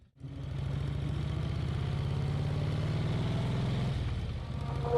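A 1939 Brough Superior SS100 motorcycle engine fires up and runs with a steady, loud, low pulsing throb for several seconds, dipping briefly near the end before picking back up.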